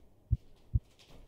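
Two deep, soft heartbeat thumps roughly half a second apart, heard through a stethoscope in the VR game EscapeVR: Trapped Above the Clouds, alone over a faint background hum.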